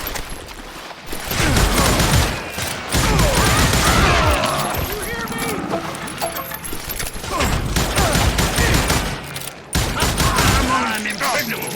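Gunfire in the video game Call of Juarez: Gunslinger, dense bursts of shots and impacts layered under shouted character voices throughout, loud and close.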